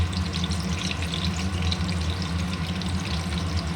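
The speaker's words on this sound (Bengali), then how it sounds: "আলুগুলো ভাজা হচ্ছে" Potatoes frying in hot oil for a mutton curry, a steady loud sizzle and bubbling close up with no talking.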